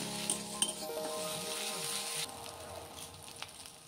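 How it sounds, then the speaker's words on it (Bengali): Ginger garlic paste frying with chili and turmeric powder in a pan for a banana-flower chop, a close, steady sizzle with stirring scrapes and a light clink, dropping in level partway through; no speech. "এবার দিয়ে দেবো 1 চা চামচ লঙ্কার গুঁড়ো, 1 চা চামচ হলুদ গুঁড়ো দিয়ে ভালো করে কষে নেব।"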